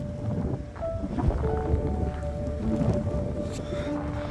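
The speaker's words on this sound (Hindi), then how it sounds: "अभी बहुत ज़ोरों से हवा चल रही है, साथ में स्नो भी गिर रही है" Strong wind roaring during a heavy snowstorm in Prince George, British Columbia, a constant loud rumbling gust buffeting the microphone with no talk over it.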